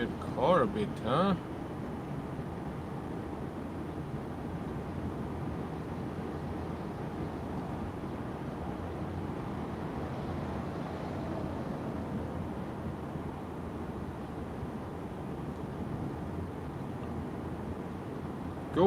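Steady broadband road and wind roar inside a Tesla Model Y cruising at 130 km/h, a constant low rumble from start to finish with a brief louder knock near the beginning.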